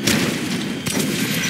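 Dense gunfire and explosive bursts fill a fight in the video game Metro 2033 Redux, loud and continuous across a short stretch with no voices over it.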